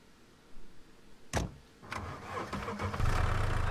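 An engine cranks and catches in the survival game Scum, a sharp starter burst followed by a rough running vehicle engine that builds and holds steady, fairly close with no talk over it.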